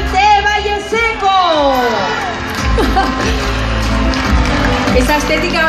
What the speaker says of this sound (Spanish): Un aplauso para ellas también.